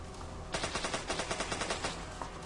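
Rapid pistol fire in the zombie shooter game Zombocalypse 2, a quick run of about a dozen sharp, evenly spaced shots following a short lead-in of game noise.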